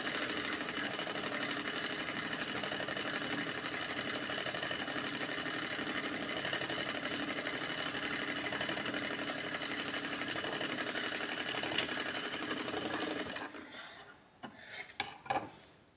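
A sewing machine runs a back stitch across practice fabric in one continuous fast whirring drone for about thirteen seconds, then stops, leaving a few soft clicks and handling sounds.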